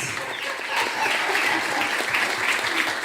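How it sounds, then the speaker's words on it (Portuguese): A church congregation applauding, a broad wash of many people clapping that swells after a softer start and holds steady, somewhat distant and moderately quiet. "Então vamos aplaudir ao Senhor pela vida deles."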